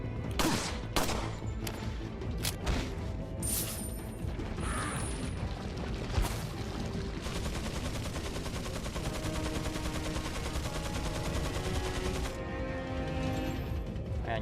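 Rapid bursts of gunfire in Resident Evil 4 over a dense, continuous soundscape of game effects and mechanical clatter, loud and steady throughout.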